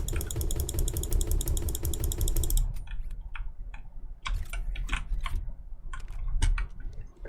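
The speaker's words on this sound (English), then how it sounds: "sometimes I kind of shoot like a charged up machine gun" Rapid, evenly spaced gunfire from a video game, like a charged-up machine gun, bursting loudly for about two and a half seconds before giving way to scattered clicks and short sharp game noises.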